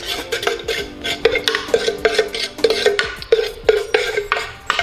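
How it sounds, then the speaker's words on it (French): Spoon stirring a homemade dish soap mix of black soap and baking soda in a container, a steady run of quick scraping, clinking strokes close by with no talk. "Hop, on va remuer un petit peu."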